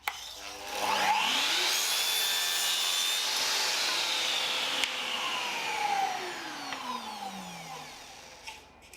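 A Metabo KGSV 72 Xact SYM sliding miter saw cuts through a wooden skirting board, its motor whining up loudly with the blade biting into wood, holding steady through the cut, then winding down over several seconds.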